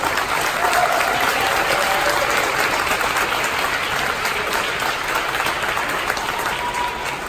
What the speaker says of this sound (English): who needs a huge round of applause